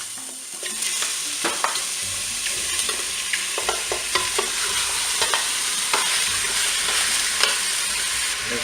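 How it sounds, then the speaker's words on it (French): Toulouse sausages browning in a preheated Cookeo multicooker give a steady sizzle throughout, with scattered sharp crackles and pops and occasional utensil scrapes as they are stirred, close and fairly loud with no talking. "Cookéo vient de terminer son préchauffage, donc je vais pouvoir eh bien, faire dorer mes saucisses."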